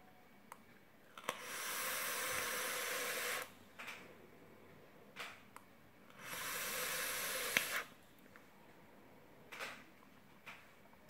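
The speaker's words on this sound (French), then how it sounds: "déjà ça pétarade dans tous les sens les gars" A vape dripper coil fires twice, each time a loud, sustained hiss of about two seconds with a crackle, separated by quiet gaps holding a few soft clicks and taps.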